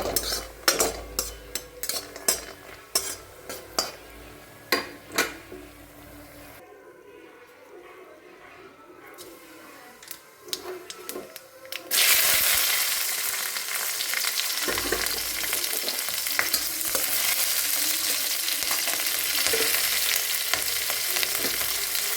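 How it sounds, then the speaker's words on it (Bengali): Lentil dumplings (bori) frying in hot oil in a kadai, a loud steady sizzle that starts partway through after scattered kitchen clatter and utensil knocks. "এখন আমি কড়াইতে তেল দিয়ে দিয়েছি"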